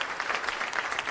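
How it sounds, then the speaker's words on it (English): Theatre audience applauding as actors bow at a curtain call, a dense steady patter of many hands clapping close and continuous through the short moment. "As the audience clap their appreciation, all the actors bow."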